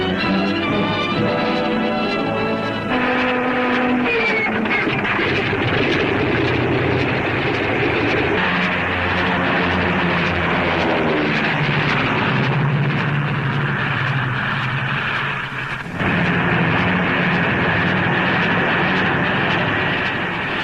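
P-40 fighter planes in archival wartime film roll along an improvised metal runway and take off for an Italian target, a steady loud engine roar running throughout with shifting tones and a brief dip near the end.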